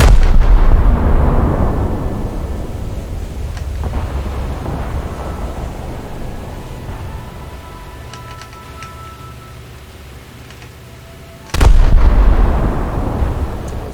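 Naval guns of the Japanese light cruiser IJN Suzuya fire in the game War Thunder, two heavy booming salvos, one at the start and one near the end, each trailing a long rumbling decay, with faint clicks between.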